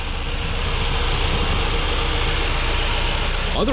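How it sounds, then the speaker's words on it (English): A 1989 Chevrolet Cavalier wagon engine idles steadily and smoothly at close range, a continuous low rumble with a brief squeak at the very end. "Engine sitting there running smooth, idling away."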